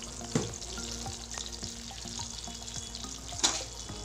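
Mustard seeds, cumin, urad dal and dry red chillies fry in hot oil with a steady crackling sizzle and scattered pops, two louder spatters standing out.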